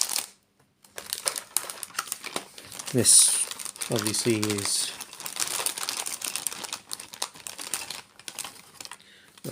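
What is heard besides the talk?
rustling of packaging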